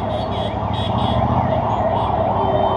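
An ambulance siren passes through road traffic. Its loud, repeating wail runs continuously over a steady bed of engine and road noise.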